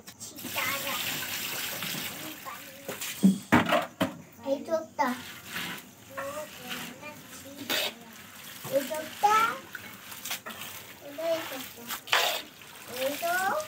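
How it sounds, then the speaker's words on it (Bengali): Cabbage leaves being washed by hand in a basin of water, with repeated splashes and sloshing close by; someone talks intermittently in the background throughout. "এইভাবে ভালো করে পাতাকপি পুরো ধুয়ে নেব।"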